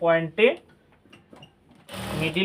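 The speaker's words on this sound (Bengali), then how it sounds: "পয়েন্টে মিলিয়ে এখন সেলাই করতেছি।" Someone speaks briefly, and then a sewing machine runs in a short, close burst of stitching on a hijab near the end.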